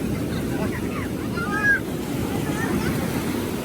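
Ocean waves washing over sand at Mypadu beach, a steady, close rushing wash mixed with wind buffeting the microphone, with faint voices in the background.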